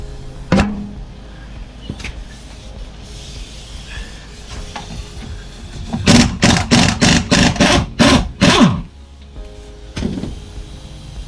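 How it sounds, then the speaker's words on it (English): An air-compressor impact gun working on tight wheel nuts of a Ford EL XR6 Turbo. A few isolated clacks come first, then a close, loud run of about eight rapid rattling bursts, followed by one more brief burst. "I'm doing it with a compressor and gun"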